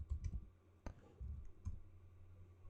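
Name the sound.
typing on a computer keyboard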